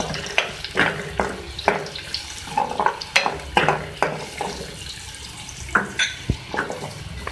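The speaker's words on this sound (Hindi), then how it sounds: "अब मैं इसी ऑयल में मैं इसमें प्याज ऐड कर रही हूँ।" Onions stirred in hot oil in a pan with garlic paste, with scraping and clattering strokes over a faint sizzle, repeating at an uneven rhythm, close up.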